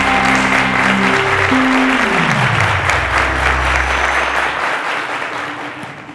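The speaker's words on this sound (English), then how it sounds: "a round of applause to three of them" Studio audience of a televised quiz show applauding the contestants, a loud steady wash of clapping under a fading musical sting, lasting several seconds before tapering off.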